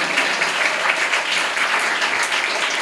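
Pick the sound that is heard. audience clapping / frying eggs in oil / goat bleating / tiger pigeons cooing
audience clapping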